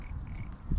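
A high electronic chirping buzz from an electronic crankbait pulses in short bursts over low rumbling water noise, loud and close, while bass fishing.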